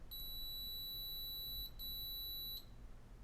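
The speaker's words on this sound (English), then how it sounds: "And you hear it beep a little bit. That's because you have capacitors on all those ESCs." Two short high-pitched electronic beeps sound from drone ESCs as XT60 power is connected, steady tones separated by a brief gap, clear over a quiet low hum.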